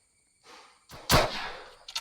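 Gunfire in a Roblox first-person shooter, a sharp burst of shots with a quieter follow-up crack, loud and close in the game mix.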